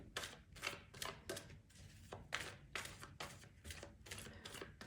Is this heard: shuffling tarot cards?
yes